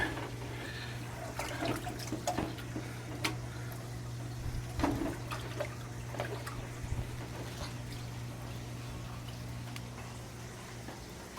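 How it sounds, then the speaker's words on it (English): Water pours steadily into a fish tank being refilled during a water change, a continuous rushing and trickling flow over a low steady hum, with no talking. "As you can see, water going in."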